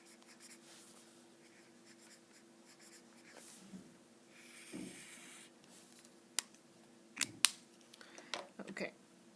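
A pencil writes on paper during a math lesson, with faint scratching strokes and a few sharper taps near the end, quiet and close.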